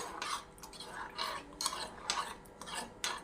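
A spoon stirs a spice masala paste of cumin powder, salt and a little water for a brinjal and potato curry, giving repeated scraping, rubbing strokes against a bowl, moderately close and steady, with no talking.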